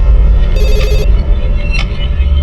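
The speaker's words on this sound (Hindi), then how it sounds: "सर मिनिस्ट्री से फोन है।" A telephone rings at a police station, a steady electronic ring over low background rumble, heard close and alone without talk.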